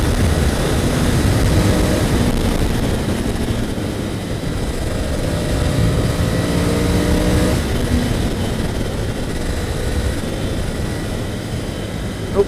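Steady, loud engine drone of a Ducati Scrambler Cafe Racer motorcycle riding on a road, continuous throughout with wind rush and rising and falling engine tones, no talk.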